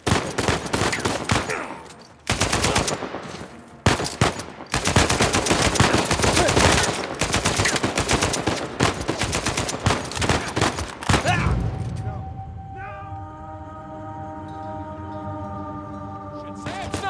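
Dense bursts of rapid gunfire and sniper shots in Uncharted 4, loud and chaotic for about eleven seconds with brief gaps, then giving way to a ringing, sustained tonal hum.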